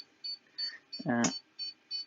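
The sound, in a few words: bench power supply beeping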